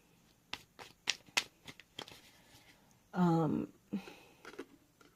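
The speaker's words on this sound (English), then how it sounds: "I'm going to go ahead and cut the deck" A tarot deck is cut and shuffled by hand in quick papery flicks and riffles up close, with a brief hum of voice partway through.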